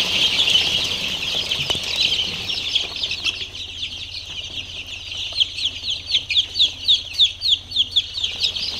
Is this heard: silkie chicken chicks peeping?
yes